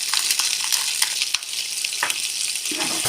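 Ginger garlic paste sautéing in a pan for prawn biryani, a close hissing sizzle with rapid scraping stirs and light clicks of the spoon, continuous and without speech.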